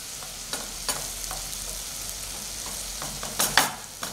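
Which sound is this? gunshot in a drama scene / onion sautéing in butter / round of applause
onion sautéing in butter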